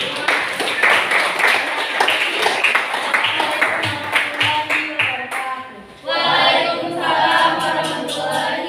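Classroom applause for a student group: a burst of clapping from many hands, loud and close, with talking in the room over it, rising again strongly near the end.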